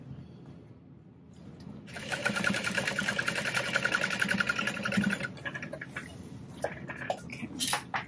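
Sewing machine stitching a vinyl mini backpack runs in a steady whirring burst of about three seconds after a quiet start, followed by short clicks and handling noises.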